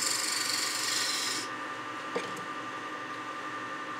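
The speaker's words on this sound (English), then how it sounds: "I'm going to use this little cove tool. It's kind of a negative rake scraper to get rid of a little minor tool mark." A negative rake cove scraper works wood turning on a lathe, producing a close, steady rasping rub that softens midway as the cut lightens, with one small tap.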